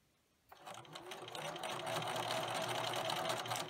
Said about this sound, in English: just make sure that they're tucked in there good and continue to stitch